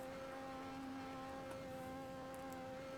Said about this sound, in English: I can hear noises right now. I'm wondering if that's the engine going.